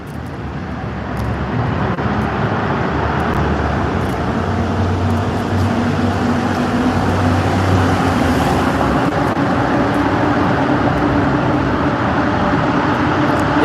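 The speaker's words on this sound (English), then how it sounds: "you can still hear the cars on the road." Cars driving through a road tunnel in Japan produce a continuous reverberant traffic rumble, a low steady wash that swells gradually louder toward the end with no distinct passes.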